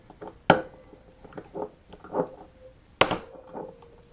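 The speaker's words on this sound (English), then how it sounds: "And now impact these with a big fat hammer." New bearings being driven into a 1976 Honda MR175 Elsinore with a big hammer: two sharp, loud metallic impacts about two and a half seconds apart, with quieter scraping and handling noises between them.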